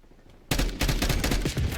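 Video game gunfire erupts suddenly after a quiet moment, a dense rapid burst of loud shots with sharp repeated cracks, close and continuing to the end.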